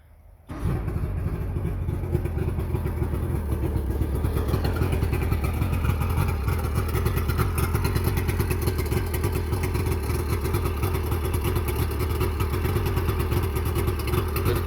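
A 1999 Mercury 90/65 jet oil-injected two-stroke outboard on flushing muffs catches and settles into a steady, loud, clattering run close by, holding an even buzzing idle for the rest of the stretch.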